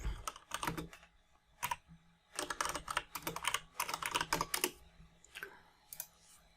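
Terminal commands are typed on a computer keyboard in quick irregular bursts of close key clicks, separated by brief pauses, with no talking.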